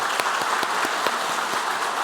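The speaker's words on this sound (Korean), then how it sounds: "박수 한번 치겠습니다" Congregation clapping together during a Sunday church worship service, a fairly steady wash of many hands with a few sharper individual claps standing out, continuous and without speech.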